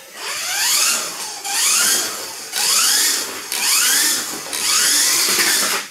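A Kyosho Mini-Z RC car fitted with McLaren F1 wheels and the tyres from an Audi body drives laps on a small track. Its electric motor gives five loud, rising whines, each a close, repeated pass with short gaps between them.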